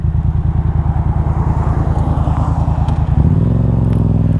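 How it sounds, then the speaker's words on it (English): A Yamaha FZ07 motorcycle engine runs with a steady, loud, throbbing pulse close by, then the pitch rises and holds smoothly as the bike gets underway. "expect a bike that looks like this to sound like that, right? It just sounds so good."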